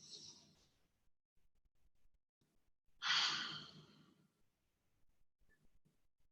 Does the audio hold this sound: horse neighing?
no